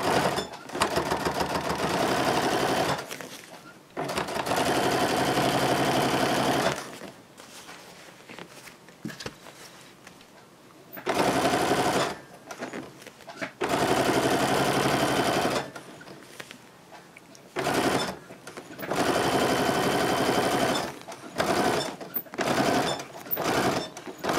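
A domestic sewing machine stitches through thick layers and binding on a diaper bag, running in loud, steady whirring bursts of several seconds, separated by short quiet pauses, very close by.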